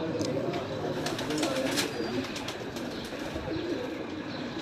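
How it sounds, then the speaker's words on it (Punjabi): A pigeon coos on a rooftop amid steady outdoor background noise, its soft calls faint and intermittent rather than prominent, with no clear talking. "ਚੰਗਾ ਕਬੂਤਰ ਬੈਠਾ 7 ਦੇ ਗੇਟ ਤੇ"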